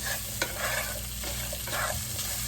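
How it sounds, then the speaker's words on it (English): Cajun-seasoned potatoes fry in a pan as a spoon stirs them, a constant close sizzle broken by a few scraping strokes and one sharp click, with no talking. "Stir that all up."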